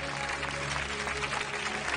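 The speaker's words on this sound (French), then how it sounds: "On applaudit Elliot." Applause from a live audience at a French hypnosis stage show, a steady wash of clapping with a low hum underneath, filling the short moment without break.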